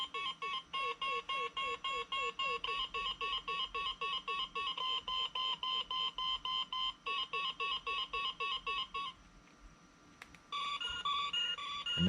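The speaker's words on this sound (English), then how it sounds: "this one here is a really cool kind of scanner sound effect" Scanner effect from an MPC Space 1999 Commlock model kit fitted with lights and sound: a rapid, repeating electronic warble pulses steadily and loudly for about nine seconds, then shifts into a different chirping electronic pattern.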